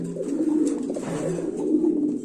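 Big Bombay pigeons at a farm coo continuously in deep, warbling, overlapping calls, loud and close, with no one speaking over them.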